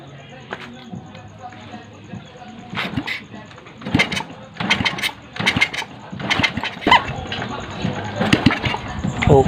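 A Honda Wave 125 motorcycle engine runs after its carburetor is refitted, with an uneven mechanical chatter that swells and surges over about nine seconds, close by, while people talk over it.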